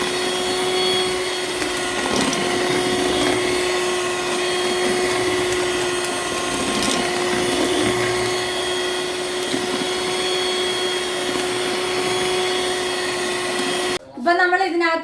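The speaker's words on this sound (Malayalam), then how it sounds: "എന്നിട്ട് ഇനി നമുക്കിത് ഒന്നുകൂടി ബീറ്റ് ചെയ്യാം" An electric mixer beats homemade cake batter with a steady, loud whirring drone that holds evenly for about fourteen seconds, then cuts off as a voice starts speaking.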